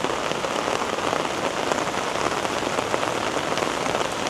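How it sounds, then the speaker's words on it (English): Steady rain pours onto a hard surface on a downtown Toronto street, a dense, even hiss of drops continuing close by without a break. "The rain sounds nice"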